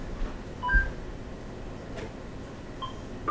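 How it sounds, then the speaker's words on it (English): A house phone sounds a few short, widely spaced electronic tones against a quiet room background, faint and sparse, with no speech. "telemarketers, they call my house phone all day long"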